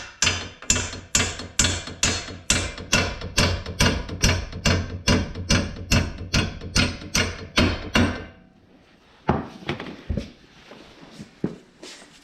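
About twenty sharp, evenly spaced hammer blows tap a bolt into the ball joint of a 2011–2019 Ford Fiesta during front wheel bearing work, loud and close, followed by a quieter stretch with a few scattered metallic knocks.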